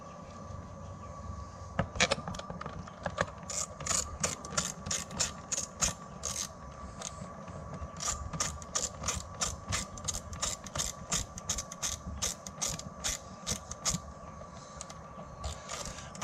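Bolts being tightened back into a 2015 Honda CRF110 dirt bike with a ratchet, rapid clicking bursts repeating in quick runs, close up and without speech.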